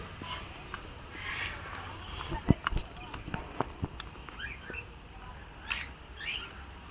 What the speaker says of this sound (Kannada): ಕಾಕ್ಟೇಲ್ ಅಂತ ಹಿಂಗೆ ಒಂದಿಷ್ಟು ಬರ್ಡ್ಸ್ ಎಲ್ಲ ಇದೆ